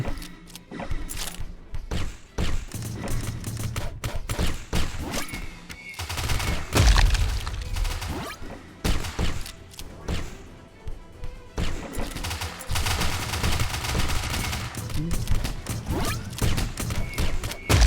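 Crossbow shots in the video game Hitmen Havoc: a dense, continuous barrage of sharp, loud impacts and thuds, firing in rapid irregular bursts with no pause.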